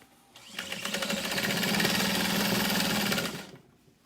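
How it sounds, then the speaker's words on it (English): A sewing machine runs in one continuous close burst of about three seconds while stitching across the curved bottom of a fabric backpack. It rises quickly to a steady, rapid mechanical chatter and then stops. "I'm just gonna kind of sew across and complete this curved shape."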